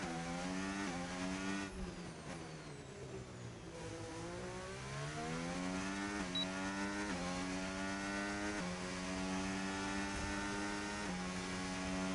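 An F1 25 race car pulls out of the garage in the racing game, its engine droning steadily and climbing through a series of rising gear shifts, loud and close with no talk.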